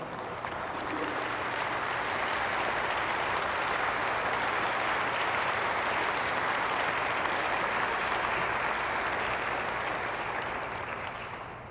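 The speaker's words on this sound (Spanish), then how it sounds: "un bonito aplauso para nuestro Señor." A congregation at a spiritual retreat applauds loudly and continuously, a dense, even wash of clapping sustained for over ten seconds before easing slightly at the end.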